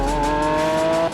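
A Lamborghini Aventador's 691-horsepower V12 holds a loud, sustained tonal howl that drives the whole brief moment before dropping off sharply at the end, heard close with no voices.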